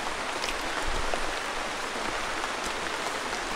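Steady rain falls across a forested valley in Bandarban, a dense, even hiss of drops with no breaks and no voices.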